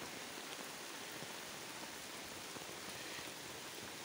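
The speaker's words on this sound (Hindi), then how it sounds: "बारिश ज़्यादा तेज आ गई" Heavy outdoor rain roars in a thick, unbroken wash of falling drops, steady and close, with nothing else audible.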